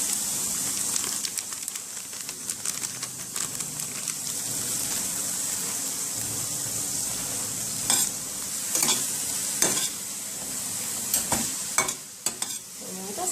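Pasta with chicken, black pepper and parsley flakes stirred in a pan for jerk chicken rasta pasta, giving a steady close sizzle with scraping, clacking utensil strokes scattered through, no talking.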